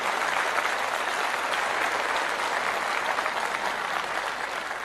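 Audience applause welcoming a guru at a Hindu religious gathering, dense and steady clapping from a large crowd that holds throughout.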